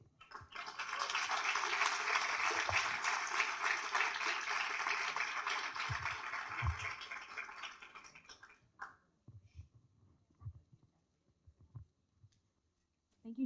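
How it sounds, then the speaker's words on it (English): Audience at a dementia-friendly community summit applauding after a speaker, a dense, sustained clatter of many hands for several seconds that fades out into a quiet room with scattered small knocks. "Another round of applause for her courage."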